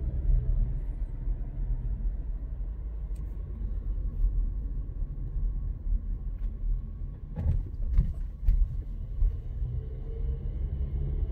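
Interior of a VW T-Cross Highline rolling through town at night over speed bumps, a steady low road and engine rumble with a cluster of soft thumps and rattles as the wheels cross a bump.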